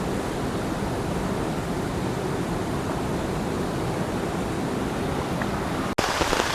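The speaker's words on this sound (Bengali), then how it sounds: "বৃষ্টি পড়ছে, বৃষ্টি শুরু হয়েছে এখানে।" Steady rain falls at a hillside picnic spot by the Jhalong river near Bindu in West Bengal, a dense, even hiss of drops that fills the whole stretch, with a brief knock near the end.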